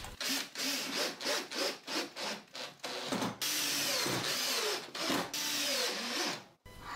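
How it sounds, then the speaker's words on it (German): Rhythmic bursts of a small drill bit pre-drilling wood panels, repeated short pulses followed by a longer steady grind, close and fairly loud. "kann jetzt die Revisionsplatte mit einem kleinen Bohrer in die Seitenteile des Absaugkastens vorbohren und anschließend verschrauben"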